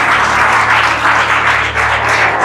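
A church congregation applauds together in a steady, loud, close burst of clapping that holds evenly for a couple of seconds, with a low hum beneath.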